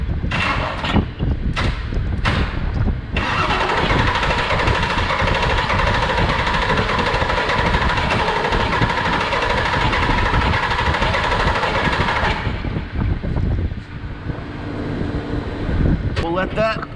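A service truck's diesel engine, just fitted with replacement injectors, is cranked and runs with a loud, steady rough drone for about nine seconds after a few clunks, then shuts off; a voice is heard briefly.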